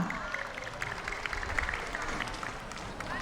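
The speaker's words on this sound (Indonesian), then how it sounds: "Tepuk tangan." Audience applause at the opening of a 2022 literacy community camp literature stage show, a steady mid-level patter of clapping from a crowd, continuous for about three seconds.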